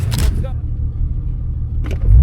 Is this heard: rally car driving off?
yes